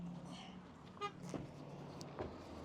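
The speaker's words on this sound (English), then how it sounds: "He just honked at me." A car horn gives a couple of short, faint toots from a distance over quiet street noise.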